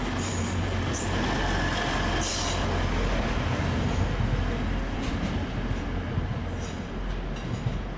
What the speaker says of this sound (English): we get a Great Northern train and our train set heading back north